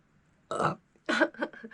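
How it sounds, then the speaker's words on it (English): A loud, croaky burp, then a second longer burp breaking into a few rough gulps, close to the mic. "I've burped"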